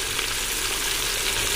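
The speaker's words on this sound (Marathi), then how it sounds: "आता हे तेलामध्ये चांगलं ते भाजून घेऊ. चांगलं तेल सुटेपर्यंत हे मसाले भाजून घ्यायचे." Biryani masala spices with Kashmiri red chili and black masala frying in hot oil in a pan, a steady loud close sizzle with faint stirring, no voices.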